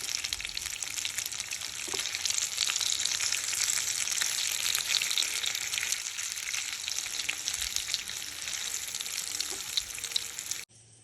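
Sweet potato cutlets sizzle steadily in a frying pan, a dense, continuous crackle of hot oil that holds at an even loudness for about ten seconds before cutting off abruptly, with no talking.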